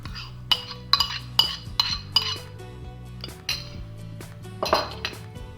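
Lumpy rustic cottage cheese, about 150 grams, being put into a bowl: a series of sharp spoon-on-bowl clinks and clatters, close and crisp, spaced irregularly with brief gaps and no talk.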